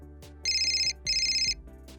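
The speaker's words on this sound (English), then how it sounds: "Cal sits on their sofa and dials Satoshi's number." A phone rings after a number is dialed: two bright, steady electronic ring bursts separated by a short pause, heard clearly over a quiet background.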